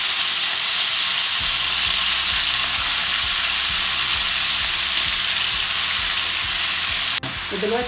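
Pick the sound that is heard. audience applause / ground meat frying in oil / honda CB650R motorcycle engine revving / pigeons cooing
ground meat frying in oil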